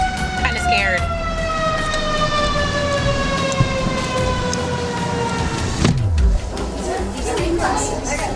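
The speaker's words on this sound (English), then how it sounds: "Tornado sirens once again going off in Joplin." Outdoor tornado warning sirens sounding in Joplin, steady rising and falling wails with layered tones, loud and continuous across the whole span, with faint background chatter.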